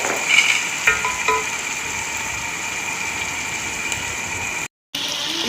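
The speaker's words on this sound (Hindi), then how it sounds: "हम इसके अंदर डालेंगे अपने टमाटर" Tomatoes tipped into hot masala in a pan for kofta curry, giving a steady close sizzle with a few brief clinks and stirs early on, no talk, a short dropout near the end.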